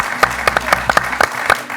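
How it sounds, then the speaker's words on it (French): A French TV quiz-show studio audience claps for a departing contestant after three wins, giving sharp, fairly sparse hand claps at an irregular rhythm, close and clear with no voices. "on peut l'applaudir Marie-Noël"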